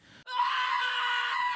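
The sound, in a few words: man screaming in pain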